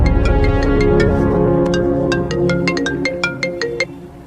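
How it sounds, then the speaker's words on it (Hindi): A phone ringtone plays a repeating melodic electronic tune, loud and close, with no one talking over it. "बिंबी, तुम्हारे लिए कॉल है।"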